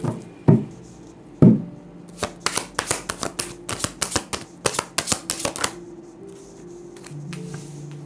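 Tarot cards are shuffled close by: two soft thumps, then a run of quick, crisp riffling bursts in uneven rhythm that fade out near the end, with no talking.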